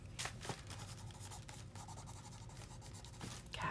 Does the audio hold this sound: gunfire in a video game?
no